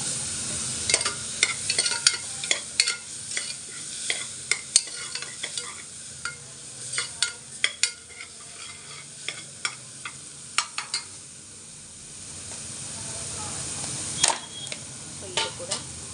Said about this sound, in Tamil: அதை அப்படியே போட்டு வதக்கிக்கலாம்.